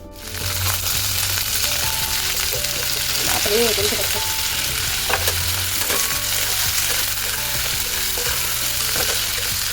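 Sliced potatoes tipped into onions already frying in a pan, giving a steady loud sizzle and crackle with stirring scrapes throughout, a brief burst of hissing as the pieces land.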